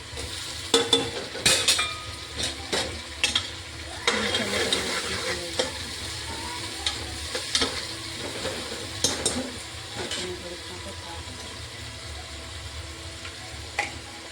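Bean and potato curry is stirred and fried in a pan, with a steady sizzle and frequent scraping, clattering strokes of a spoon against the pan throughout.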